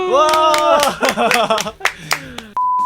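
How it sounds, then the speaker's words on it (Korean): A run of quick, sharp hand claps on a Korean car-talk show, mixed with speaking and laughing voices, ending in a short electronic beep tone. "네, 박수!"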